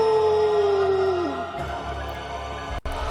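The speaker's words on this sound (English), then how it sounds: "ignore the howling of a wild man as we walk down here" A wild man howls in the Bloodborne video game, a long falling wail that drops away mid-clip, leaving low rumbling game ambience and a brief dropout near the end.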